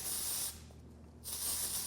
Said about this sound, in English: it's such a unique spray, man, and the way it comes out is very, like a very matte finish